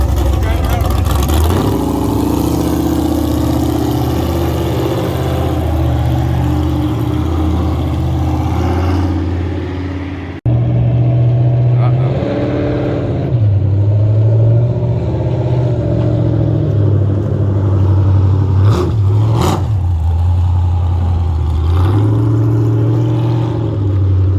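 A car engine revs while warming up, running loud and close with a throaty idle and repeated throttle blips, and voices talk over it.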